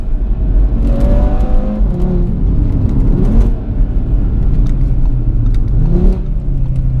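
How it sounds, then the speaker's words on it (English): A 510 bhp 2018 Audi RS3 engine revs hard through downshifts from inside the car, its loud droning note rising and falling, with sharp crackling pops between gear changes. "you know when you downshift and you hold the sort of foot on the gas, you can get that sort of anti-lag noise"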